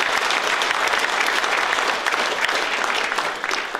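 Sustained loud applause from an audience at a political union gathering, a dense even wash of many hands clapping close by that carries on steadily and eases slightly near the end.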